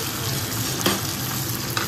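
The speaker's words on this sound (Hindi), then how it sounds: "मैंने घेर दिया इसमें प्याज और इन्हें भी अच्छी तरह से भून लूँगी" Onions frying in a pan with cumin, fenugreek and asafoetida, a steady close sizzle with occasional stirring scrapes and no talk.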